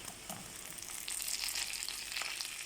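Butter frying with ground spices, ginger-garlic and tomato in a pan, a soft steady sizzle with a few light stirring scrapes, swelling slightly midway.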